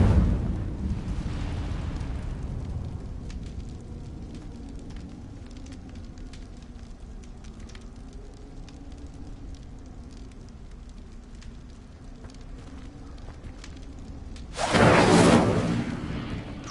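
A fire spell cast in Hogwarts Legacy, heard as a sustained roaring, crackling whoosh of flame that starts loud and settles into a steady burn, closing with a sharp, bright burst.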